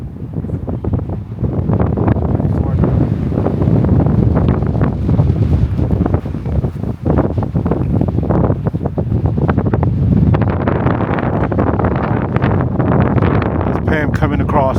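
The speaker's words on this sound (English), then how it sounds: "Walking across this bridge. It's windy." Strong gusty wind on a bridge near Interlaken buffets the microphone continuously, a loud low roar with rumbling surges, and a voice speaks faintly beneath it.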